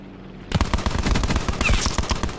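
Gunfire in the video game Call of Duty Blackout starts abruptly and continues as a dense, rapid burst of loud shots, with no talking.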